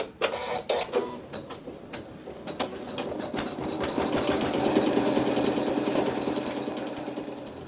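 An embroidery machine stitches embroidery onto a quilt block, a steady fast mechanical whirring with rhythmic needle clatter, close and continuous with no talking.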